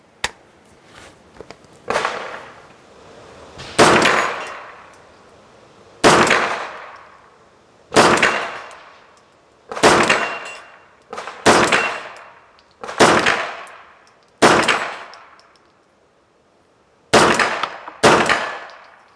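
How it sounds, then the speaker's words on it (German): A Schmeisser AR15-9 rifle fires about ten loud single shots at steel targets and a falling plate at 20 to 50 m. Each shot rings off sharply with a long decaying echo, spaced roughly two seconds apart outdoors. "ich werde jetzt mal ein bisschen konzentrierter schießen"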